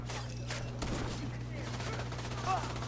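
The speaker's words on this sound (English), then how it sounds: "Gunfire!" Bursts of rapid gunfire in Tom Clancy's The Division 2 crackle in short volleys over a steady low hum, with some talking mixed in.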